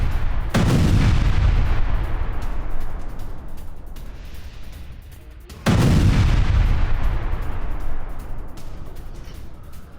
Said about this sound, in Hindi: असद सेना के हथियार गोदामों पर हमले हुए हैं। इजरायल ने किए 10 से ज्यादा हवाई हमले।